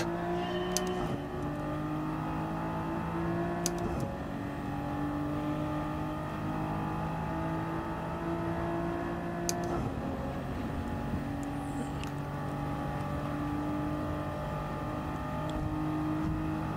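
A Toyota 86 race car engine in Gran Turismo 7 hums and whines steadily at moderate volume, with pitch shifts as it revs up and down during handbrake drifting, and no talk over it.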